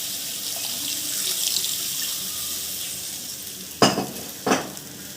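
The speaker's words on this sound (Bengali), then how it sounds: "একটু জল দিই, এবার জল দিয়ে দেব।" Water is poured into a simmering hilsa fish curry, starting as a faint splashing and sizzle in the pan, then two short, louder pouring bursts near the end.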